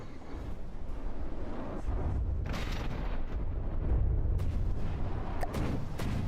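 Continuous heavy barrage of CRAM cannon fire in the naval combat game From the Depths, with dense overlapping booms and rumbling blasts that never let up.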